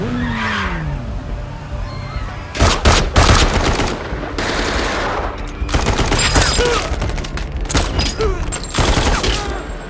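An action film shootout unfolds in loud bursts of rapid gunfire, with sharp volleys and sustained automatic fire alongside screeching tire skids and vehicle noise, punctuated by brief quieter gaps between clusters of shots.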